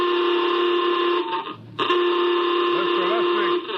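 General quarters alarm aboard a spaceship in a radio drama: a loud, steady electronic tone with layered harmonics, briefly cut off midway and then resuming, with a faint warbling underneath near the end.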